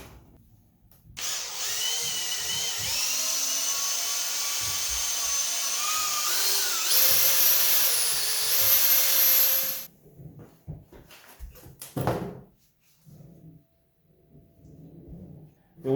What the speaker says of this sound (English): We're gonna be buffing it with a drill and a synthetic wool pad.